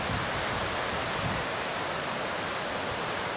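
A river rushes in a gulch below a campsite near Lone Pine, a steady broadband roar of flowing water heard from a distance, continuous and unchanging with no voices.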